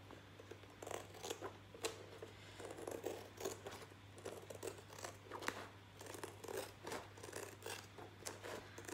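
Repeated crisp snips and crunchy cutting strokes from scissors working through stiff diamond-painting canvas, close up, with a steady low hum underneath.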